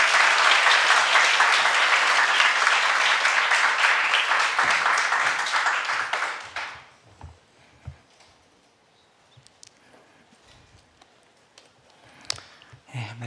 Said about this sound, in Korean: 그럼 우리 정호성 목사님을 뜨거운 박수로 환영합니다